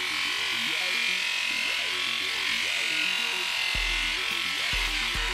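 An electric detangling brush runs on dry hair with a steady high-pitched motor buzz, its tone wavering as it moves, with a few soft bumps and brushing noises toward the end.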